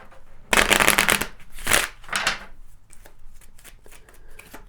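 A Kipper card deck is shuffled up close in a loud riffling burst, followed by a second shorter riffle and then softer scattered card flicks and taps that fade out, with no voices.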